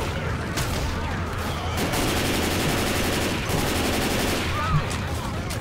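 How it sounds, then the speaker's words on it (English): Continuous gunfire in Left 4 Dead 2, with dense overlapping shots and distant bursts forming a busy, steady background barrage at moderate volume. "Scary shooting down here."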